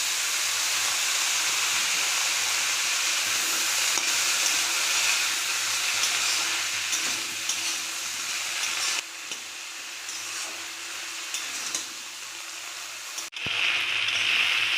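Washed flowers tipped into a hot pan for a shrimp dish set off a loud, continuous frying hiss that holds steady for a long stretch, easing slightly partway through, with no talking.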